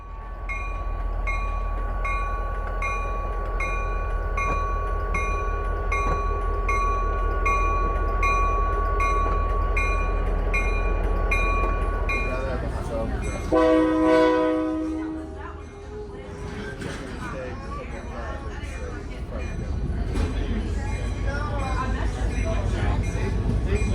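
A diesel locomotive hauling passenger coaches rumbles along steadily with a sustained tonal horn-like note, then a brief clattering burst and continued rolling noise, with a voice talking over it.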